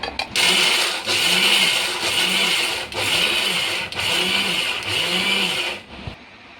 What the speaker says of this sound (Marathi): आता आपण मिक्सीला टाकून घेऊया मिक्सरच्या भांड्यात आणि थोडं एक फेर मारून घेऊया।